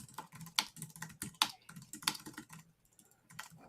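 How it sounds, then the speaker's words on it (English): Rapid typing on a computer keyboard, close and fairly quiet, with bursts of sharp key clicks and a few louder strokes before it slows and trails off. "Typing as fast as I can."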